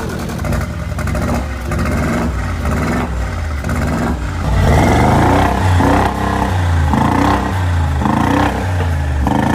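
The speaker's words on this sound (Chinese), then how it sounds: "不过声浪如何还得启动了才知，而这声浪也没让人失望，给人一种想将油门焊死油箱的感觉" A 2022 Mercedes G63 V8, repaired after an accident, revs through a newly fitted exhaust with a loud, close, throbbing burble in repeated pulses, no talking.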